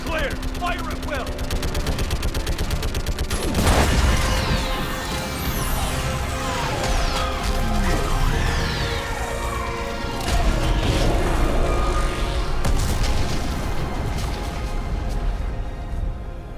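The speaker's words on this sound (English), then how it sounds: "I need an orbital strike. We're clear! Fire at will!" Heavy gunfire and explosions from an orbital strike during the Geth and Quarian war in Mass Effect 3, with a sustained loud barrage of bursts, booms and crashing debris, and a louder blast near the start, over continuous battle noise.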